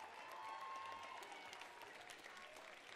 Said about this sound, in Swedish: Jag vill att vi applåderar lite mer, mina vänner.